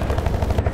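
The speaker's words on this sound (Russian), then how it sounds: "вертолет появился" Helicopter in the online shooter game BASIS, a loud pulsing rotor thump in a steady rapid rhythm, heard alone for a brief moment.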